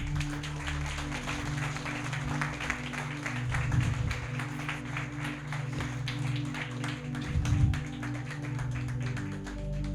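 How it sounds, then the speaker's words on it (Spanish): Congregation applause in a church service, steady dense clapping throughout with a sustained musical backdrop, fairly loud and continuous with a couple of swells. "Denle un aplauso al Señor."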